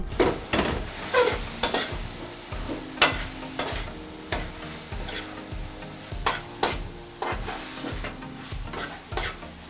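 A spoon or whisk stirs teff batter for Ethiopian injera in a bowl, giving repeated wet slaps and scraping strokes in an irregular, steady rhythm, close and moderately quiet, with no voices.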